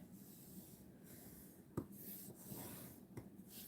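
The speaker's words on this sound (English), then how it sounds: "My card base, I'm going to fold and burnish that" A folded cardstock card base being burnished flat, soft quiet rubbing strokes close by with a couple of sharp creasing snaps, no talking.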